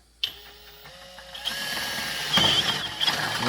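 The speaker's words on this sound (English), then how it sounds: "But I'm going to go ahead and drill this out." A power drill bores a hole for a skid plate on a 2024 Can-Am Outlander ATV, starting with a sharp hit, then a steady whirring drone that grows louder and rougher as the bit bites in.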